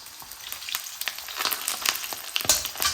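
Stuffed bitter gourds (karela) frying in a pan, a steady close sizzle with crackling pops and occasional stirring scrapes, no voices.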